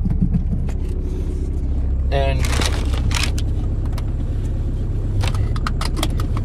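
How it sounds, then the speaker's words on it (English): A Volkswagen engine turns over and catches, with a brief starter whir giving way to a steady, loud idle rumble that continues throughout. Clicks and clatter sound on top, and a voice speaks briefly. "I'm gonna start this car"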